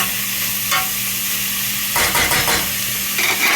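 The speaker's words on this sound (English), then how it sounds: "We add the meat. The meat is added to the onion. Now we stir it together." Meat added to fried onions for Persian khoresht gheymeh, frying in a pot with a loud steady sizzle, then bursts of close scraping as it is stirred together.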